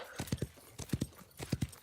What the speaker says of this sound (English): doing all this riding slowly, getting at me mileage on the horse